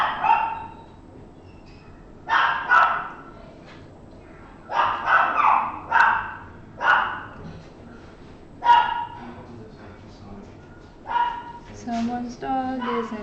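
A dog barks in scattered bursts of several sharp barks with pauses between them, at moderate distance over a low background hum.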